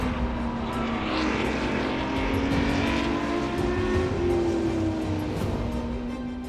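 A Ferrari 512 BB LM race car at the Spa-Classic historic event, its engine a loud continuous roar with a slowly rising and falling pitch as it passes, steady and dense throughout.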